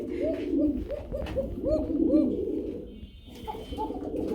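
Kokasura pigeons coo in a repeated, rolling series of calls, close and fairly loud, with a soft background hum and a faint high tone near the end.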